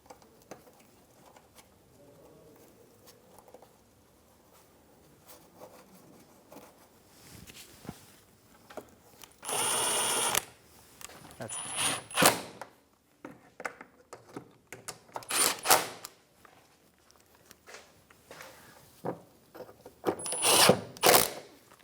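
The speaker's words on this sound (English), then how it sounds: "Get it seated on all of the studs and get the nuts started." Nuts are run down onto the studs of a plastic shield on a 2012-2020 Chevrolet Sonic with a power tool, in several short bursts of whirring between quiet handling and clicks.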